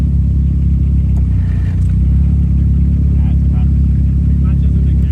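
A tuned turbo car engine, an RB25DET 180SX or a single-turbo FD RX7 with a clutch that isn't engaging, holds a loud, steady low rumble while people talk nearby.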